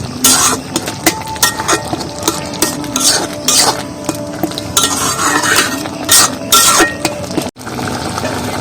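A spoon stirring a pot of red lentil dal with pumpkin and potato: repeated close scraping and metallic clinks against the pot in an irregular rhythm, with no talking.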